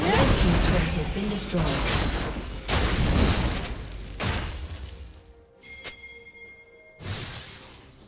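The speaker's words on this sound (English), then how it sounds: "Red team's turret has been destroyed." A League of Legends turret being destroyed in a Grandmaster-level match: a series of loud crashing, shattering bursts with whooshing tails, each followed by a fading rumble, then a sharp final impact.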